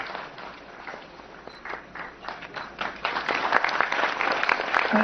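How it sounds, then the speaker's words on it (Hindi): Applause rises from the audience at a film festival closing ceremony after an award is announced, starting as scattered clapping and swelling into a fuller, louder round that continues to the end. "जोरदार तालियों की बौछार जो है वैसे रखनी चाहिए।"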